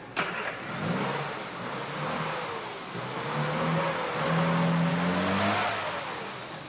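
A car engine runs steadily in a garage, a medium hum with rising and falling tone as it revs gently, moderately loud and continuous with no talking.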